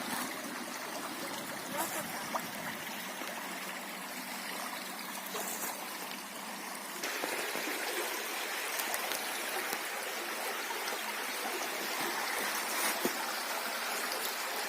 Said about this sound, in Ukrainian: Отака річечка тече тут в загорцях, гарна.